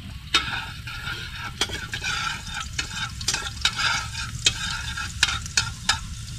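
Garlic frying in a pan gives a continuous close sizzle, broken by a series of sharp, fairly regular spatula scrapes and clicks against the pan, with no voices.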